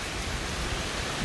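Heavy rain pours during storm number 9 in Hue, Vietnam, a dense, even hiss that fills the moment without letup, with no voices.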